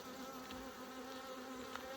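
Honey bees buzz steadily around an open hive, a dense continuous drone at moderate volume with no pauses.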